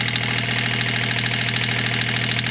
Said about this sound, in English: You will hear the engine RPMs to go down a bit because of the resistance of the alternator.